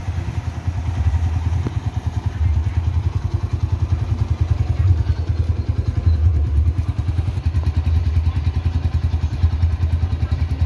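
A Honda GL200R motorcycle idles steadily without choke on its stand, a close, loud, even low chugging pulse with light mechanical clatter throughout.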